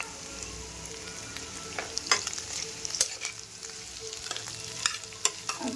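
Sabudana khichdi with roasted crushed peanuts and boiled potato is stirred as it fries in a pan, giving a steady close sizzle broken by repeated sharp scraping strokes of the spoon, with no talk.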